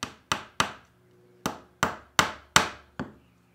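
A hammer drives a small finish nail into wood at an angle with eight sharp, close blows in uneven rhythm and short pauses between groups of strikes.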